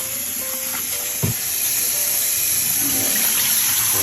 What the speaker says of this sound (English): rinse it under cold water again